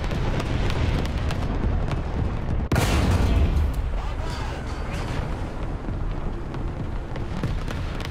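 A single heavy tank cannon shot in a high-tier tank battle game: one loud, deep blast with a rolling tail, set against continuous engine rumble and distant battle noise.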